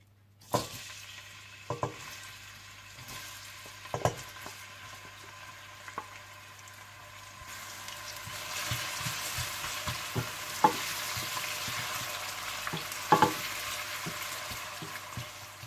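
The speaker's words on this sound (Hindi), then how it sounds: "और इसमें आप प्याज डालकर हल्के से गोल्डन ब्राउन कर लीजिए।" Onions sizzle steadily in hot oil while being fried toward golden brown for keema matar, the frying growing louder partway through, with occasional clinks and scrapes of a utensil stirring the pan.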